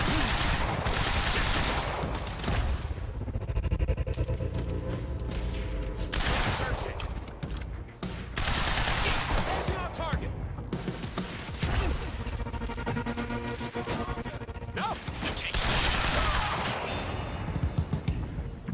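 Dense, sustained bursts of video-game gunfire from shooting an enemy in Quantum Break, rapid volleys with brief lulls, loud and close throughout the sequence.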